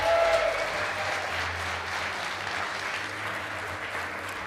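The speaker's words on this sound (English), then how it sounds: "A round of applause for the Being Esports" An esports event audience gives a round of applause at a staged show, sustained clapping filling the hall at moderate level and carrying on steadily from start to finish.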